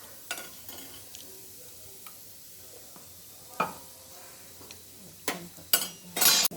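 Spinach bhakri flatbread roasting in ghee on a pan, a soft low sizzle with scattered spoon scrapes and clinks that grow louder and busier toward the end, close and with no talk.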